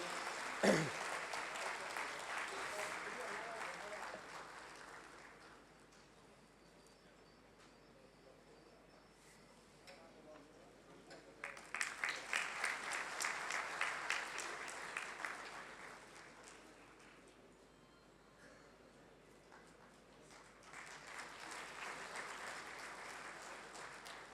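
Applause at a members' felicitation ceremony comes in three waves of lively hand-clapping from a crowd, each rising, holding, then fading to near-quiet before the next swell.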